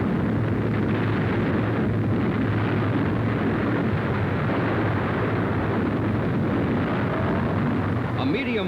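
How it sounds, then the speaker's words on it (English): A concentrated salvo of 100-pound aerial bombs dropped by US Army Air Force planes in a 1944 wartime demonstration, heard as a sustained, dense roar of heavy blasts and rumbling that runs unbroken across the whole stretch. "Planes of the American Army Air Force demonstrate the terrific destructive power of their latest bombs. 100-pounders in a concentrated salvo."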